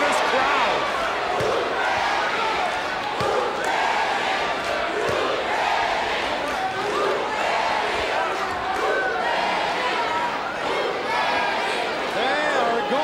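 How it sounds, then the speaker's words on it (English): A packed arena crowd at a 1993 WCW Saturday Night tag-team wrestling match (Sting and Davey Boy Smith versus Harlem Heat) roars and cheers without pause, a dense, loud wall of voices and yells. "And listen to this crowd."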